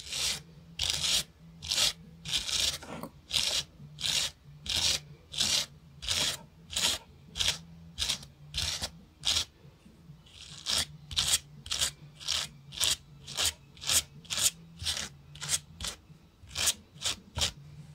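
Yarn threads being brushed apart to make pampas-style decorations: a steady series of about thirty rhythmic, close, scratchy brush strokes, loud and regular, with no talking.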